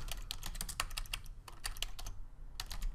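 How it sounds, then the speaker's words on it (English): Quick typing on a computer keyboard during website setup, a close, rapid patter of key clicks with a brief pause midway. "if I could type"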